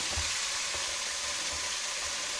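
Cabbage lightly frying in a pan while red paprika is chopped for a family dinner, giving a steady, close hiss of sizzling oil with faint low taps running beneath it.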